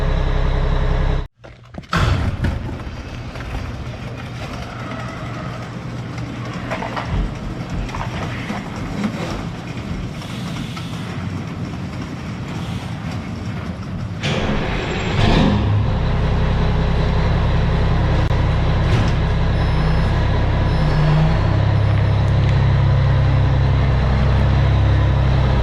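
A Mack truck with a newly fitted transmission and clutch drives off, its engine a steady low rumble that builds and grows louder midway and stays strong to the end, with no other voices.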